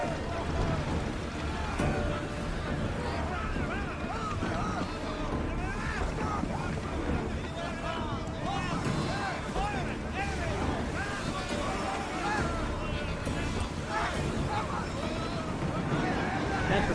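A sailing ship pulls out of harbor in Assassin's Creed Odyssey, with steady wind, rushing water and creaking hull forming a continuous, moderately loud wash, and a voice talks over it now and then.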